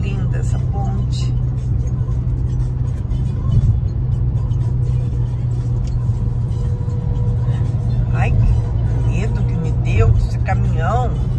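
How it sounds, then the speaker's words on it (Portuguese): Truck passing on a road near a bridge, heard from inside a moving vehicle as a continuous low rumble of traffic and engine, with people chatting over it. "Caminhão"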